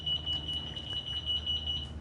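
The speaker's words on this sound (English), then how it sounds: "that beeping sound, that means we are still in neutral" A Go Go Sport four-wheel mobility scooter, key switched on while still in neutral, emits a steady high-pitched electronic beep in quick repeated pulses over a low hum, close and clear with no talking.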